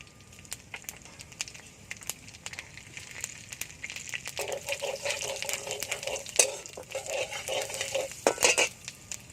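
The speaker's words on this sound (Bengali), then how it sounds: "কড়াই আবারও দিয়ে দেবো তেল পাঁচ ফোড়ন" Panch phoron spices crackle and fry in oil in a wok while a Bengali dish of banana stem with prawns is cooked; quiet at first, then a denser sizzle with sharp pops and clinks builds from midway, with no talk.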